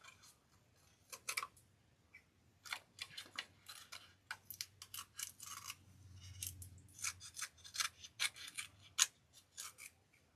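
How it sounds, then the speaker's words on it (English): Repeated crisp snips of scissors cutting, irregular bursts close up, with quiet pauses between cuts and a low background hum. "I'm going to try these scissors because I think they'll be able to get closer."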